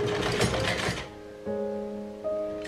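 A sewing machine runs in short bursts stitching a baby cap, a quick whirring mechanical rattle followed by a couple of brief motor hums, close and moderately loud.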